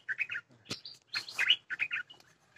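Birds sing in a garden on a farm in Dak Lak, Vietnam, with clear, fairly close chirps and short twittering phrases repeating in quick bursts and no talk.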